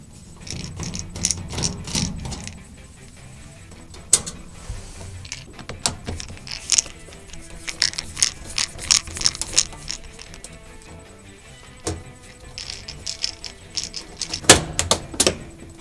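Screws being taken out during a disassembly, with scattered sharp metallic clicks, ratchet turns and tool rattles in irregular bursts, close by, with no voices.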